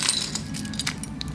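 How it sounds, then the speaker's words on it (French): Keys jangling on a keyring that carries a small Loki Pop figure keychain, a close, continuous metallic clinking with a few brighter chinks. "Elle me fait rire quand il y a un trousseau de clés."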